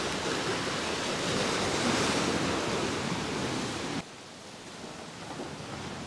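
Black Sea waves after a storm at Alushta, Crimea, wash in a steady roaring surf, loud and close, then drop abruptly to a softer, more distant rush.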